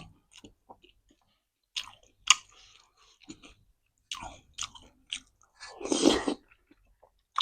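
Close, crisp chewing and crunching of crispy pork in a thick old-style rolled rice noodle soup, with bites and crunches coming in irregular bursts and quiet pauses between them, no talking.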